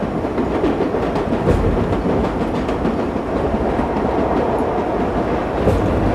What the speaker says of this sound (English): This is an overground train too.